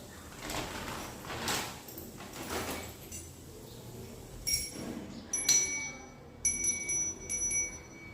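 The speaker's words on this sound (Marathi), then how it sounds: "याला ना घंटा पण आणलेली अशी इथे लटकावायला." A small decorative hanging bell for a festive home tinkles in a few light, bright rings after some soft handling and rustling nearby, fairly faint and close.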